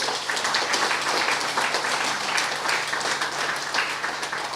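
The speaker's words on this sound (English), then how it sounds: "I think they deserve a round of applause tonight." A dense, steady round of applause from an audience at an inaugural national fashion event in Fiji, many hands clapping evenly throughout without talk.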